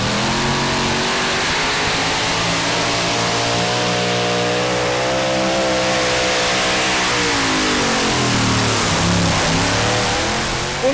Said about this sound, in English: It's 4 V8 engines, big racing engines.